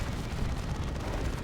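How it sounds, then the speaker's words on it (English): A Dreadnought's assault cannon in Dawn of War 2: Retribution fires as a dense, rapid stream of heavy shots, forming a continuous loud rattle in a 3v3 battle. "Does crazy damage with that assault cannon to that weird boy."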